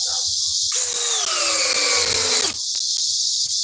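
A Milwaukee cordless drill in drill mode at speed 2 whirs loudly for about two seconds, its pitch dropping slightly as it bogs down, then stops abruptly.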